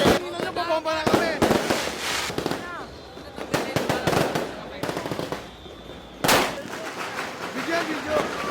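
New Year firecrackers and fireworks exploding in the streets of Manila, a dense barrage of sharp bangs and crackling bursts, some close and loud, with people shouting and talking throughout.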